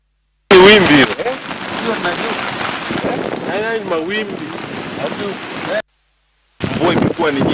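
Heavy rain pours down near the shore of Lake Victoria during flooding, a dense, steady roar of water with a brief break midway. Faint voices can be heard beneath the downpour.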